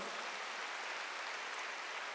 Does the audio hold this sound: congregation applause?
yes